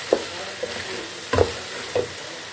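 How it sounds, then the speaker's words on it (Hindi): Tomatoes being stirred into chicken and potato keema in a pan: three distinct scraping strokes of a spoon over a soft, steady sizzle, close and moderately loud, with no talking. "अब इसमें हम टमाटर डालेंगे और इसको हम मिक्स कर लेंगे।"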